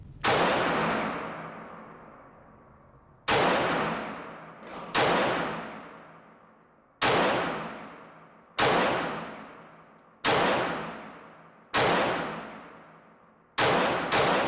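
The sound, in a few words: Taurus G2C 9mm semi-auto pistol firing at range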